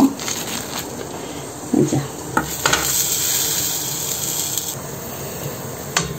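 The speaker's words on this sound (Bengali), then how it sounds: "পরোটাগুলি এখন ভেজে নেব। এদিকে পরোটা ভাজছি" Steady sizzling of ready-made parathas frying in a hot pan, with occasional clinks and scrapes of a utensil against the pan, close up.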